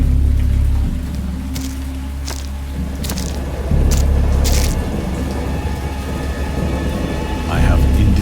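Heavy rain pours steadily while deep rumbles of thunder roll through, with sharp crackles and drips standing out over the storm's constant wash.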